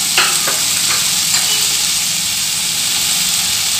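Chopped tomatoes dropped into a pan of frying shallots and red chillies, a few quick splashing pops at the start giving way to a steady loud sizzle.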